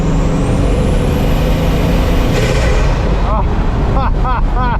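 Bugatti Mistral roadster, a 2026 model with a 1600 hp W16 engine, under hard throttle: a loud, continuous roaring engine and rushing intake, ending in a quick series of fluttering chirps as it shifts or lifts.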